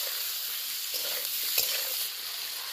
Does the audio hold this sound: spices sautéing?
yes